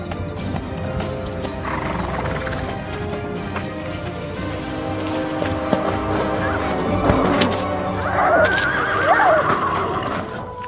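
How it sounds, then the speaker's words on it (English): Horses neigh and whinny over a busy rumble of hooves and galloping, loud and close, with a couple of shrill whinnies near the end. "I hear horses."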